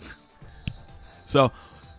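Crickets chirp in a steady high, continuous trill that runs through the whole moment, briefly broken by a short voice sound in the middle.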